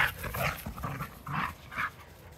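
Two dogs playing tug of war on a back lawn, giving short panting grunts and whimpering growls in a steady series of close bursts while tugging, with no talk heard.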